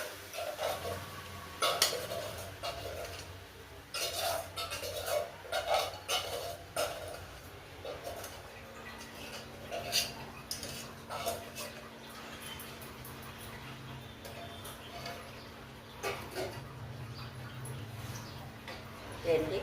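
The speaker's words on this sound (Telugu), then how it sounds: "దీన్ని కలుపుతూ ఉండాలండి." A utensil clinks and scrapes in a pan on a stove while seven cup cake mixture is stirred, giving irregular taps, some in quick clusters, under a low background hum, with no speech.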